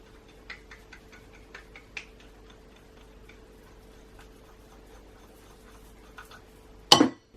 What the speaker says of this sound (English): scrape down your ground mixed spice bowl, or plate as I've chosen to use, and do the same for your flour bowl